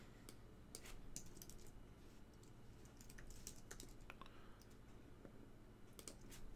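Rapid typing on a computer keyboard, a steady run of close, crisp key clicks with occasional louder taps, heard alone at low volume.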